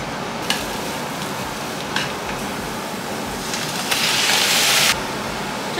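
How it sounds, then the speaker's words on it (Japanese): Button mushrooms and king oyster mushrooms stir-fry in hot sesame oil in a pan, giving a steady close sizzle. A spatula clinks and stirs now and then, and a louder hiss swells for about a second. "ごま油熱してマッシュルームとエリンギを炒めます。"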